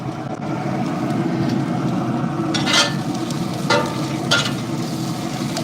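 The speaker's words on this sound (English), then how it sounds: "Nervous about how quickly these onions are sizzling." Onions sizzling hard alongside Bavarian bratwursts on a hot grill, a dense steady frying crackle with a few brief scraping stirs, close and continuous.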